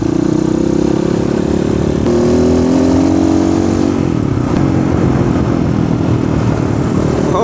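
A 2020 Asian Beast 250 motorcycle engine runs loud and close throughout, a steady low rumble with a rising rev partway through before settling.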